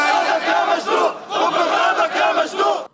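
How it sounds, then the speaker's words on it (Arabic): A crowd of protesters chants hostile slogans in loud, rhythmic bursts of massed voices that rise and fall in waves before cutting off abruptly. "وسط هتافات معادية للمشنوق وفرع المعلومات"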